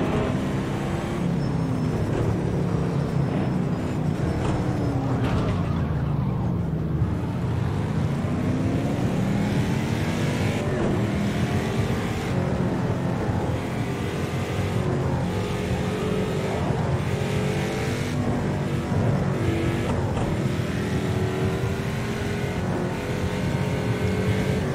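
Touring car engine at racing speed in Project Cars 2 at the Circuit of the Americas, a loud continuous roar with rising and falling revs through gear changes, dipping briefly before climbing again.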